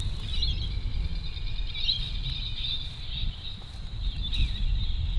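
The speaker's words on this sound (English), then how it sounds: "the combination of the bird sounds and the wind" Steady wind rumbles low in a cemetery at Redland Bay while high, thin bird chirps and twittering carry faintly over it at a distance.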